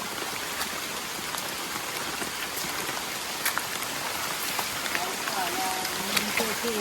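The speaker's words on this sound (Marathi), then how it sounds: "पाऊस आला पाऊस" Steady rain patters down on a surface, dense and continuous, with scattered louder drops standing out through the wash.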